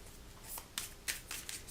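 Marvel Champions playing cards shuffled by hand, a few quick soft riffling bursts, close and faint, with no talking.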